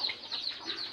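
Chickens on a farm making faint, soft clucking and chirping, a thin high murmur that continues under light background noise.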